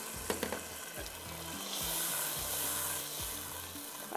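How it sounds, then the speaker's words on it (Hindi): Water poured into a pan of hot biryani masala sets off a steady sizzle and frying hiss, with light stirring clicks, close and fairly quiet. "अब इसमें डालते हैं, तकरीबन आपने इसमें 1 कप के इतना पानी डाल दीजिएगा।"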